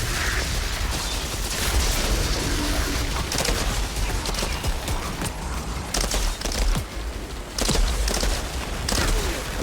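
Gunfire from a deployed turret in the Outriders video game rattles in dense, continuous bursts with booms and mechanical clatter, loud throughout and without talk.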